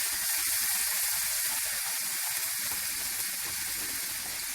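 Water poured into hot oil while cooking beyti kebab sizzles and hisses steadily, a dense close crackle filling the whole stretch with no talk over it.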